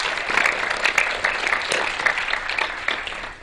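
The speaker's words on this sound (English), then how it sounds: "Let's give a big round of applause for our contestants, our hosts, and our sponsors." Steady crowd applause for contestants, hosts and sponsors at the Texas Quiz Show Championship semifinal, dense and fairly loud for a few seconds before tapering slightly.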